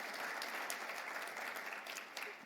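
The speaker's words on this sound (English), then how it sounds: "So let's give him a round of applause" An audience at a business breakfast plenary applauds in a soft, continuous wash of many hands that sounds distant and steady.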